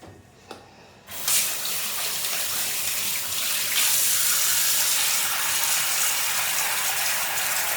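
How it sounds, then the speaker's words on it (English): Warm tap water gushes into a sink for face washing, starting with a few faint clicks before the flow opens into a loud, steady splashing rush that continues to the end. "Right now I am using a bit of warm water."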